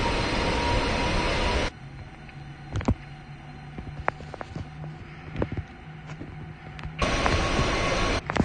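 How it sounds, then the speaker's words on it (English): An Airbus A320 engine spools up in the Aerofly FS 2023 flight simulator, a loud steady roar that cuts out abruptly, leaving a quieter hum with scattered clicks before the loud roar returns near the end. "So you guys can see that engine is starting up."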